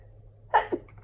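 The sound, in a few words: sneeze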